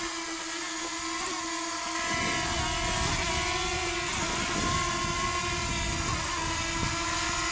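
A Walkera Runner 250 Pro quadcopter drone flies over Lake Huron, giving a steady high-pitched buzzing whine with strong tonal harmonics. It is fairly close and continuous, with the motor note thickening slightly after the first couple of seconds.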